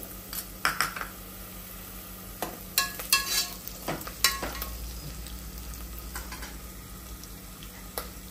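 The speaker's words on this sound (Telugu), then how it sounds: "ఆనియన్ మంచిగా ఉడుకుతుంది." Onions frying for mutton curry, a soft steady sizzle in a pan broken by sharp scrapes and clinks as a spoon stirs them, close and fairly quiet, with a low hum underneath.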